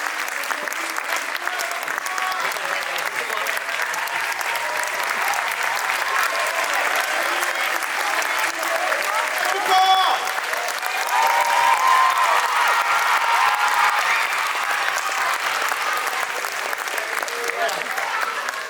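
A crowd at a folk dance ball in the Salle du Grand Sud, Lille, gives the sound and lighting technicians long, sustained applause, a dense, even roar of clapping that holds steady, with a few cheers and voices mixed in.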